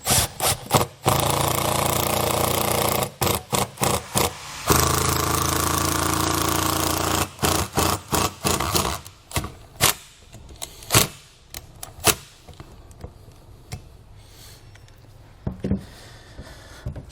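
Large Phillips head wood screws being driven into a board while mounting trailer guide-on plates: bursts of power-driver whir and grinding bite, some long and sustained, then shorter intermittent pulses, close and loud with no talking.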